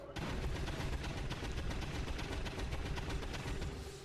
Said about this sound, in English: neither one are as visceral sounding as a standard minigun